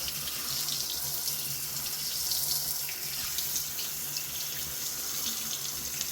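Tap water runs steadily into a sink while an espresso machine part from a Ninja Luxe Café Premier ES601UK is rinsed, a continuous close splashing hiss with no speech.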